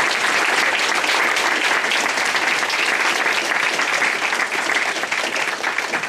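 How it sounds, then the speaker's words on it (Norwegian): A large crowd at a support event gives sustained, loud applause, a thick continuous roar of clapping that stays strong throughout with no voices standing out. "Gi dem en skikkelig applaus."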